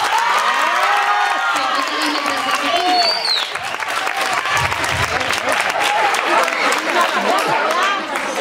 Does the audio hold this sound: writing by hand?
no